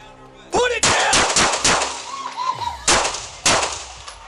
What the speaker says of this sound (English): When he raised his gun, an officer opened fire.